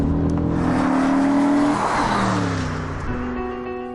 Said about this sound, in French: c'est le son démoniaque qui s'échappe de son double échappement